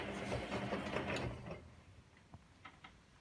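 A Hotpoint WMA40 washing machine in its 60-degree wash phase gives off a broadband mechanical churning for about a second and a half, then drops to a quieter hum with a few faint clicks and knocks.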